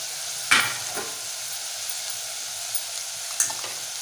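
Spicy chicken being stir-fried in a pan under a steady hissing sizzle, with a couple of distinct spoon scrapes, close up.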